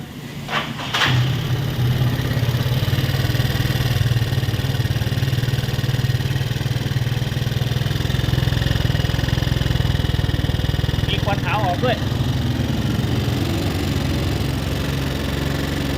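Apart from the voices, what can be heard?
Yamaha Fino scooter engine running with dry engine oil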